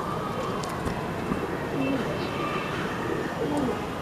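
Pigeons kept for sale coo softly in several short, low hooting phrases, set in a busy ambient background with a faint voice present.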